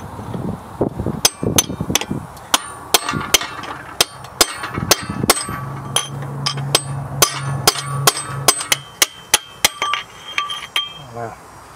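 Sharp metallic hammer strikes ring out repeatedly, loud and close, on a seized 1962 AMC Rambler, in an uneven rhythm with brief pauses and some talking early on.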